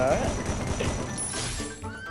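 A horse whinnies sharply at the start in the video game Free Fire, followed by hoof clatter and game noise while people talk over it.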